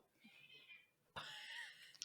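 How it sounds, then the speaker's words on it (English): A pet cat meows twice in the background, short faint calls heard behind a podcast conversation. "I heard him meowing"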